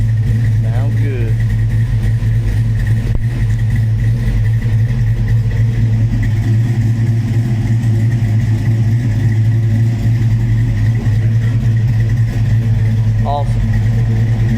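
Car engine fitted with a B31 camshaft idling and revving in a steady, loud drone, with a voice speaking over it near the end.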